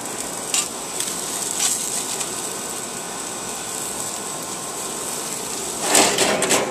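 Thin salmon sears in a hot pan, giving a steady, fairly loud sizzle with a few brief sharper crackles and clatters, no talking.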